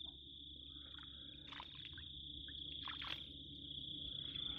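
Frogs croak from a trap set out overnight in a rural spot. Scattered croaks sound at moderate distance over a steady high insect drone, with no talking.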